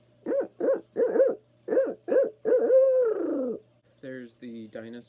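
A person imitates a barred owl with a close series of rhythmic hoots that build into a drawn-out, falling call, then end in a few shorter hoots.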